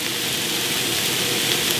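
Diced peppers and onion sizzle in a hot oiled pan, a steady, close frying hiss that holds even throughout with no talking over it.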